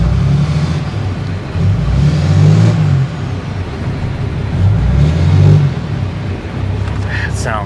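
A RAM 3500 with a Cummins diesel engine revving in two loud surges over a steady rumbling idle, heard up close.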